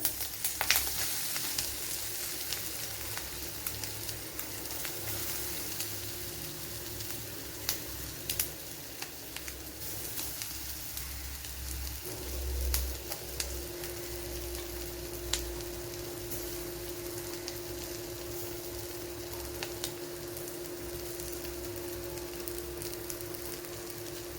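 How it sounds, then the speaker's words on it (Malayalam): A ground spice paste sizzles in hot oil with mustard seeds while cooking a tapioca dish, producing a steady close frying hiss with faint crackles and occasional stirring clicks, no voices. "ഇതിലേക്ക് ഇനി അരച്ചു വെച്ചിരിക്കുന്ന അരപ്പ് ചേർത്ത് കൊടുക്കുക."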